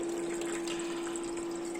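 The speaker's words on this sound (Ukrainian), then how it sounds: "Ну, Відповідно, качає насос, набирає воду." A Gorenje IMD-1200W ice maker's pump hums steadily as it draws water, a constant close tonal whine with faint watery gurgling over the top and no talking.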